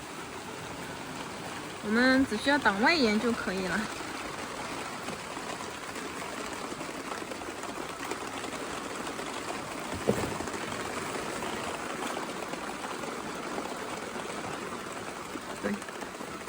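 Rain pours steadily on a stormy night, a continuous close hiss with a short stretch of talking early on and a couple of faint knocks later.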